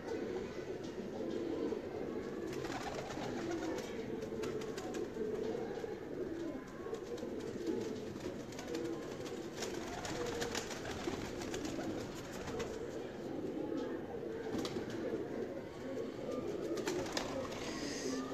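Dove and teddy cross-breed pigeons coo softly at a distance in a pigeon loft, with a low continuous background rumble throughout.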